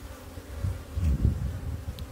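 Native Korean honeybees buzz in a low, wavering drone during a hive inspection, swelling briefly as bees move close, with no talking.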